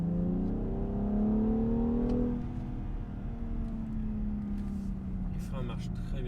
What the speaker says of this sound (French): une dernière petite accélération, les valves sont ouvertes, on remet en mode sport, en mode manuel